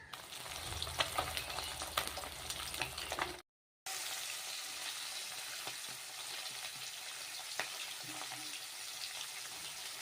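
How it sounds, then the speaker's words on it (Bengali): Boroli fish frying in a pan, a steady close sizzle and crackle with a brief silent gap early on, then continuous frying with no talk. "এখানে মাছ ভাজছি"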